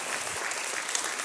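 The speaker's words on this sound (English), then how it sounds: "give the Lord a big hand clap" Church congregation at a Sunday service gives a big hand clap, a brief, dense burst of many hands clapping together at a steady, lively level.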